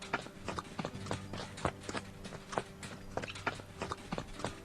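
Horse hooves clip-clop in a steady walking rhythm in the video game Expeditions Conquistador, the clear, close hoof strikes repeating evenly over a quiet background hum.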